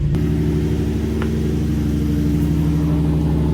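Infiniti G35 coupe just started after a manual transmission swap, idling in neutral with its wheels spinning: a steady, loud, close engine rumble with a constant low hum and no revving.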